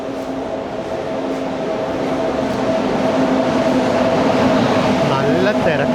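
An Intercity Express hauled by a Lallaguda shed locomotive idles at a busy station, a steady low mechanical hum and drone with faint clatter, crowd noise and talk mixed in.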